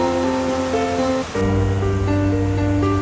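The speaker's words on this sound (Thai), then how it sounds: "น้ำที่ตกมาจากภูเขาก็จะไหลสู่แม่น้ำลำธารซึ่งน้ำมีความใสมากๆเลยล่ะค่ะ" Clear mountain water flows in an Austrian stream, a steady rushing wash that swells louder midway, with strong tonal hum layered over the water noise.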